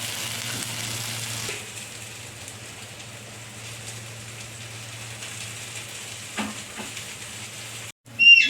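Shrimp-head fritters (bora) frying in a pan of oil, with a steady, soft sizzle and faint crackle throughout and a low background hum, ending with a short burst of handling noise.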